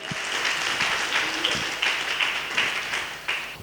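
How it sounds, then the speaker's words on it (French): A church congregation breaks into applause, a dense wash of many hands clapping together that swells and pulses for several seconds. "Est-ce qu'on peut encore acclamer le Seigneur pour notre Seigneur?"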